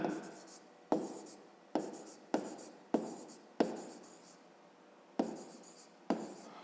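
A pen or pencil writes out a fifth-grade math solution in bursts, about eight quick scratching strokes separated by short pauses, close and fairly quiet with no talk.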